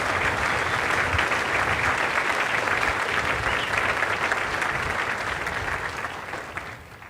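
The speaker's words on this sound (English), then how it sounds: "So if we can give them a round of applause for the amazing work they are." A large crowd applauds graduating police recruits and their families at a Western Australia Police Force ceremony, a dense, loud, continuous wash of clapping that holds steady before easing slightly at the end.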